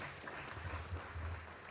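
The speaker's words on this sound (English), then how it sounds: "Let us give him a round of applause." Conference audience applauding at a service-learning event in a university hall, a brief burst of dense, steady clapping from a crowd.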